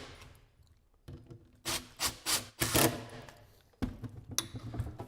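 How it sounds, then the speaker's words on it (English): A wrench works a bolt with a square nut on a 10x17 rectangular AlleyOOP trampoline frame, giving several short scraping, rubbing strokes in quick succession, fairly close and clear with no talk. "you can use a Leatherman or a wrench to hold that bottom side and just tighten that up"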